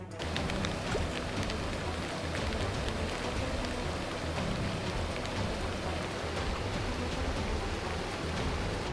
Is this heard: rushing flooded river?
yes